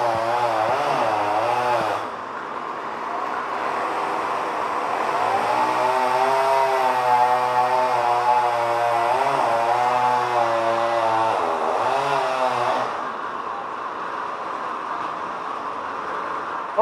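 A chainsaw cuts wood at a Wisconsin steam and gas show, its engine droning loudly and steadily for the whole stretch, with the pitch rising and falling as the blade bites and eases.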